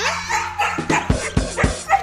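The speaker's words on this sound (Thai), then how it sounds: "พี่เห่า" A dog barks several times in quick succession, sharp and fairly close, mixed with yips over a busy background with some voices.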